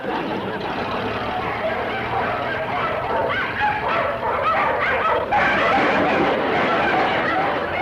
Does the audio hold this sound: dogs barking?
yes